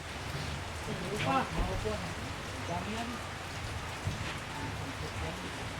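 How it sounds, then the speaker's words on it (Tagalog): Steady rain falls on a surface as a broadband hiss with scattered drop spatters, continuous throughout, while several people talk over it and a few soft knocks sound nearby. "mahirap magbiyahe kasi umuulan"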